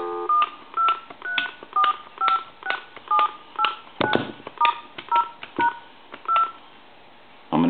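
Keypad dialing tones from a hand-carved Chinese dragon telephone under repair, a steady run of about a dozen short beeps, each key press distinct and close, with a louder click near the middle and a final tone at the end.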